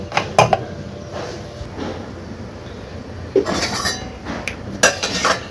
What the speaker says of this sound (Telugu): రైస్ అయితే అయిపోయింది రైస్ దించేసేసుకుందాము